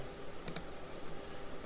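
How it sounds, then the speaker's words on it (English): A computer keyboard's keys are pressed during a Photoshop slice-exporting task: two quick, faint clicks in close succession over a quiet room background, with no talking. "hit delete on my keyboard"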